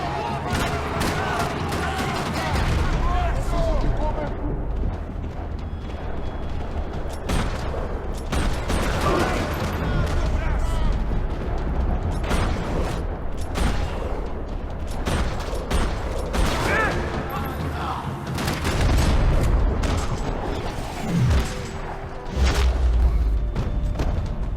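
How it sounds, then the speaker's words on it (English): Sustained gunfire rattles through a parking lot in the video game Max Payne 3, with bursts, thumps and booms piling up under game dialogue and music. "Another parking lot rattling with gunfire."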